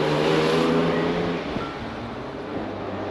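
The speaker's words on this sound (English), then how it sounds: "It goes through the gears exactly the way one would expect" A Mercedes-Benz 250SL engine hums steadily from inside the cabin, its pitch dropping as it shifts gears, with road noise continuing after.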